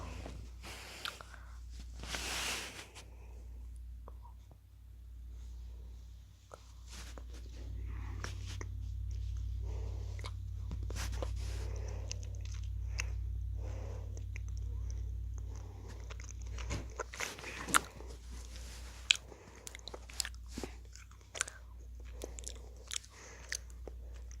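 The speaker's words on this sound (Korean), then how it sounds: "한번 씹어 보도록 하겠습니다" Gummy candy with an orange jelly filling being chewed up close, soft wet squishing and biting sounds repeating in an irregular rhythm, with sharper crunchy clicks toward the end and a low steady hum beneath.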